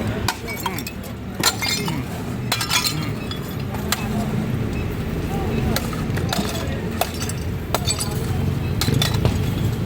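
Glass shatters and clinks repeatedly in a barangay hall comfort room during a clearing operation in Manila, sharp breaks and tinkling shards ringing out amid steady background commotion.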